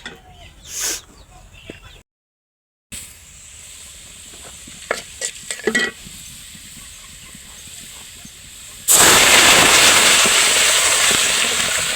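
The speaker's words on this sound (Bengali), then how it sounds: "লাউ দিয়া ডাল দিয়ে রান্না করতেছি।" Lentils simmering with bottle gourd in a home kitchen pot, a few stirring clatters and soft bubbling, then a loud steady sizzle and hiss that rises for the last few seconds.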